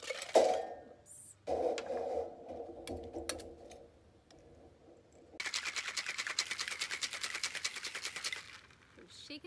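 Ice rattling hard inside a cocktail shaker while a fennel and lemon drink is mixed, a dense rapid clatter filling the last few seconds after quieter clinks and handling noise.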